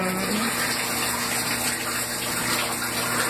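A tub being filled with water to bathe a chihuahua: a steady, loud gushing rush with a faint constant hum underneath, unbroken from start to end and with no talking.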